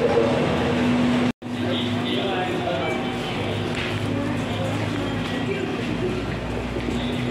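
Train at a Japanese railway station on a line toward Nagoya: a loud, steady rumble and hum with a faint whining tone, briefly interrupted by a moment of silence, and muffled voices in the background.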